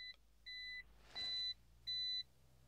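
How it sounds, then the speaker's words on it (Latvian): Electronic beeping from an unidentified device near CCTV camera servicing: four short, clean, high-pitched tones spaced about half a second apart, the later ones louder, over a faint low hum. "Kaut kas pīkst kaut kur"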